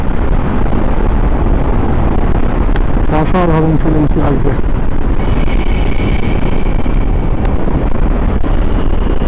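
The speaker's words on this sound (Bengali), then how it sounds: "অটল টানেলের ভিতর দিয়ে যাচ্ছি পুরো আলাদা মজা তাও বাইক চালিয়ে নিজের বাইক নিয়ে" A motorcycle rides through the Atal Tunnel in Himachal Pradesh, producing a loud, constant roar mixed with rushing wind, while the rider speaks briefly partway through.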